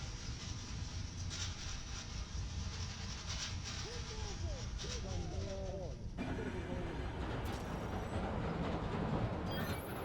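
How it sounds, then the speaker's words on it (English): A subway train rumbles steadily nearby in Marvel's Spider-Man: Miles Morales, with a constant roar, squealing wheel screeches midway and a brief hiss near the end. "that sounds like the subway or the train"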